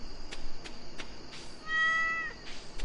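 Video game cat in Stardew Valley giving a short meow, one clear tonal call near the middle against a low steady game background with faint periodic clicks.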